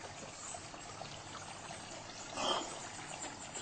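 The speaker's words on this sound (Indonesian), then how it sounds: "sungai yang mengalir" A small river flows through a cave under fallen rubble, a faint, steady trickle and gurgle with one brief louder splash near the middle.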